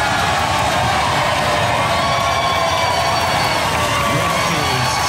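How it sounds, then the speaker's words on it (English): A studio audience at a Robot Wars heat applauds and cheers, a dense, steady wash of clapping and shouting that fills the whole stretch at a loud, even level. "Give them a round of applause, ladies and gentlemen."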